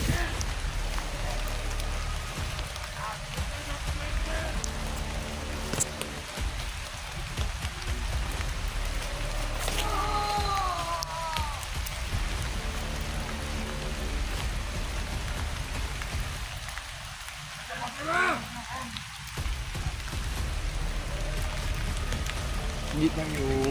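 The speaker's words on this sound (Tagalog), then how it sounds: "Sobrang lakas ng ulan mga tol, tsaka yung hangin po" Heavy rain falls steadily with gusting wind throughout, a dense constant wash of noise, with a few faint voices breaking through now and then.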